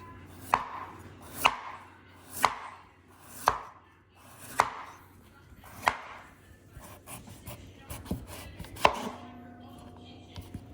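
A knife julienne-slices sweet potato on a cutting board for prawn fritters, with six evenly spaced crisp chops up close followed by a quicker run of lighter cuts and a final knock.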